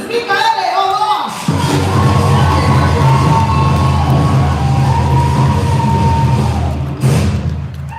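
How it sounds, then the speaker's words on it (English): Audience at the Masters of the Flame Utah finals cheering and applauding, a loud sustained crowd roar with whoops and yells that swells for several seconds, then fades slightly before a brief burst near the end. "Please give a round of applause to Maki's husband."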